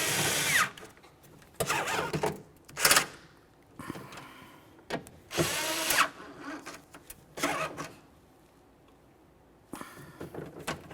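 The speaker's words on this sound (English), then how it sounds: "Go ahead and tighten those up with your 11 millimeter." Power drill running an 11 mm socket to tighten bolts on a 2001–2005 Ford Explorer Sport Trac door, in several short, loud bursts of whirring with brief pauses between them.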